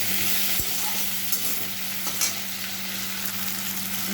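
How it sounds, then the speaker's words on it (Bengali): Chopped onions frying with prawns and taro as they are stirred in the pan, a steady sizzle with occasional scrapes of the spoon, close and continuous, no talking. "পেঁয়াজ কুচি দিয়ে দিলাম। একসঙ্গে সব নেড়ে চেড়ে নেবো।"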